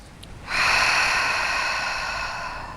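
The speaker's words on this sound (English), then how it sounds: "Close your eyes and take 3 big breaths here." One deep, slow breath is drawn in close to the microphone, a breathy hiss that starts abruptly after a brief pause and stays strong before slowly tapering off, with no talking.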